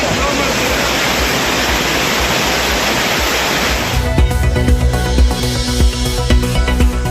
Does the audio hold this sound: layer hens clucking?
no